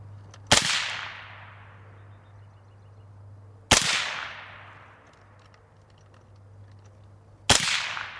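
Three sharp, loud rifle shots ring out at an outdoor range after an optic is re-mounted, each crack spaced a few seconds apart and trailing a fading echo over a low steady hum.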